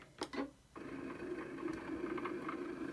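A Cricut cutting machine powers on during setup, giving a brief clicking start followed by a steady mechanical whir that holds at moderate loudness until the end.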